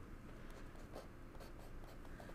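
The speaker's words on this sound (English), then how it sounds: "I'm just writing some notes down" Handwritten notes being jotted down with a pen at a sewing table, a faint, steady scratching with small strokes and pauses, close and quiet throughout.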